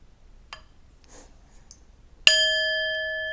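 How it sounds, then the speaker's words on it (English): A meditation bell is struck once during a guided sitting practice, giving a bright metallic ding with a long, steady ringing sustain after a few faint earlier sounds. "I'll ring the bell"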